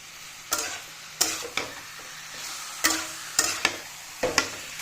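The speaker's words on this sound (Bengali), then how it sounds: "এখন চিকেন হালকা ফ্রাই করে নেব" Chicken pieces seasoned with salt and turmeric fry in a pan with a low sizzle, broken by about seven sharp stirring scrapes at irregular intervals, with no voices.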